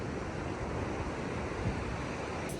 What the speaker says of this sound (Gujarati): દરિયા કિનારો દેખો કેટલા ભયંકર મોજા આવે, એનો અવાજ કેટલો ભયંકર લાગે